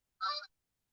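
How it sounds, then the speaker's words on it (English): One short goose honk, faint and isolated, with silence before and after. "geese, listen."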